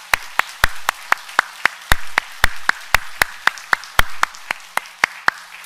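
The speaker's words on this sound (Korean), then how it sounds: "우리 손뼉을 올려드리면서 감사와 영광의 박수를" A church congregation claps during Korean worship, a sharp, evenly spaced series of loud unison claps at a brisk beat, each one distinct, with a faint hum between them.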